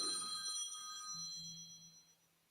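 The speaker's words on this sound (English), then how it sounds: "That's a big fine for me if y'all heard my phone ring." A phone rings faintly in the background during a Chicago Bulls preseason press conference, a brief electronic bell-like trill fading out.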